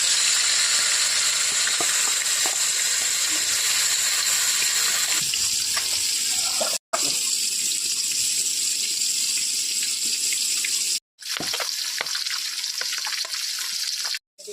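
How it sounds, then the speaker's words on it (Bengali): Pieces of katla fish rubbed with salt and turmeric fry in a pan. A loud, close, steady sizzle is cut by two short silent breaks, with no speech. "মাছটা সুন্দর করে ভেজে নিই।"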